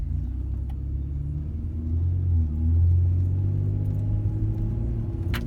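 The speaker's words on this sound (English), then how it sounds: "I mean, that's just a normal rev right there." Cabin view of a 2013 Ford Edge as its engine revs once, a low rumbling exhaust note that swells briefly mid-clip and falls back to a steady idle drone, heard close inside the car.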